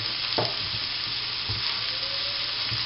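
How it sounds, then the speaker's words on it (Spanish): Tortilla ingredients sauté in a frying pan with a little salt, giving a steady close sizzle broken by occasional soft stirring scrapes. "Echamos un poco de sal para que se nos poche, y simplemente rehogarla"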